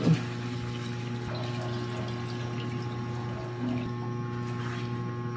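Water pours steadily into a pot of menudo simmering with pork and liver, a continuous soft liquid rush over a low hum of kitchen background.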